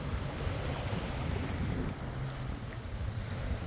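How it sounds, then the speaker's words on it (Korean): Sea waves surging at Anza Beach in Okinawa, stirred up by large passing ships, form a continuous low rumbling wash mixed with wind buffeting the microphone, steady and fairly loud with no voices. "저 큰 배가 올 때마다 파도가 크게 치는 것 같지"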